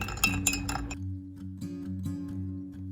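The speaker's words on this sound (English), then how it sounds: "Stir it around." A spoon stirs sugar cubes into a cup of tea, with a cluster of quick glassy clinks at the start and then quieter, sparser taps under a steady background tone.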